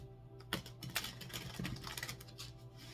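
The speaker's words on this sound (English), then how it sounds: "Last shuffle here." Quiet, close papery riffling of a deck of cards being shuffled, a few quick fluttering bursts with soft clicks.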